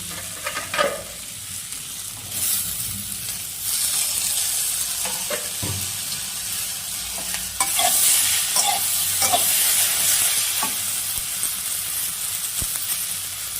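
Potatoes and chopped tomato sizzle steadily in a hot pan for a small river fish dish, with repeated close stirring scrapes and spatula taps over a constant frying hiss.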